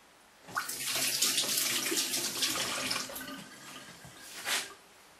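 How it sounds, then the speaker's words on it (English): Tap water running over hands in a sink, a steady splashing rush lasting a few seconds, close and moderately loud, tapering off at the end. "I might quickly give my hands a quick rinse."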